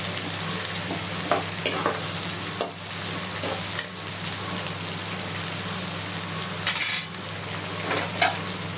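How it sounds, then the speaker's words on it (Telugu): Onions fry in a pan on a stove over medium flame for alasanda curry, with a steady soft sizzle and occasional spoon stirring and scraping, close by and without talk. "స్టవ్ మీడియం ఫ్లేమ్లో పెట్టుకొని కొంచెం వేగనియాలి."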